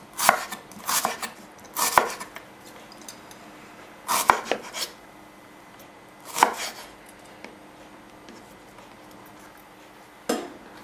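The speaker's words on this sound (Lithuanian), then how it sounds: "stambiai susipjaustysime svogūną" A knife coarsely chops onion on a cutting board in short separate bursts of crisp, close knocks, about five clusters spread across the stretch with quiet pauses between them.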